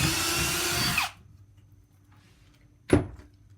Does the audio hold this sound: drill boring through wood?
yes